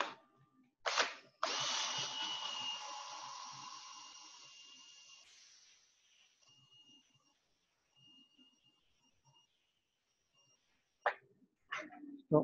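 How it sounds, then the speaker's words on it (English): A power tool sanding a wooden bowl whirs loudly for several seconds, then winds down to a faint hum, followed by a few short knocks and handling sounds. "Back to my power sanding."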